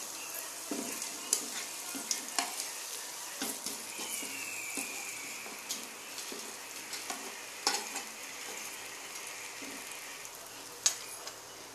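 Chicken fries in a pan and is stirred with a spoon, giving a quiet, steady sizzle broken by repeated scraping strokes and light clinks against the metal.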